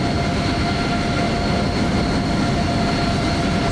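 A CRJ jet in Microsoft Flight Simulator 2020 gives off a steady, dense engine roar with a faint high whine running through it. The noise holds at an even loudness throughout.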